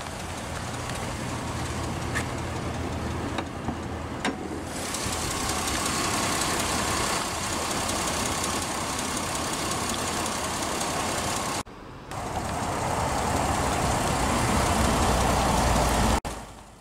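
A 2011 Chevrolet Impala's 3.5-liter overhead-valve, naturally aspirated V6 idles steadily with a low, even rumble and broadband mechanical noise, briefly dropping out once before resuming.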